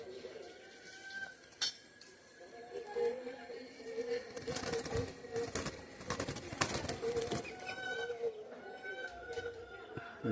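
Pure-bred pigeons in a loft coo in a continuous low murmur, with clinks and rustles and scattered broadband bursts throughout, and a voice speaking at times.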